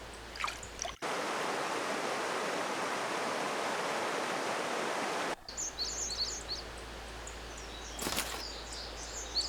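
A mountain stream in a cold Korean valley rushes with a dense, even hiss for several seconds, then drops back to softer flowing water under scattered bird chirps.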